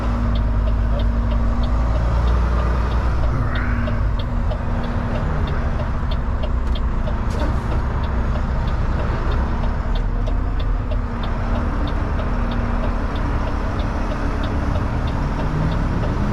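A supercharged pickup truck engine drones loudly and steadily close by, a deep continuous rumble with slight swells in pitch, no voices.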